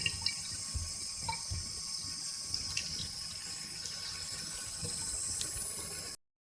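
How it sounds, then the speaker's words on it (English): Tap water runs in a steady, close stream over an avocado pit being rinsed and scraped clean of its skin, continuing evenly until it stops abruptly. "So just run it under water and scrape all this skin off."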